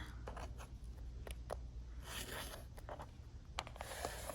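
A rotary cutter trims the sides of a fabric quilt block along a ruler, giving short crisp scraping strokes over a steady low background hum, close and quiet, with no talking.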